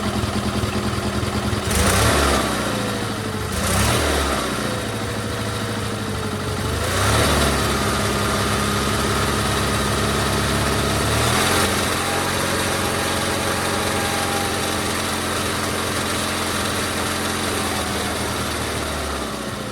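A GT/18 engine fitted with a new ignition system runs loud and close, settling into a steady idle after several quick revs early on, with a buzzy, rattling tone throughout.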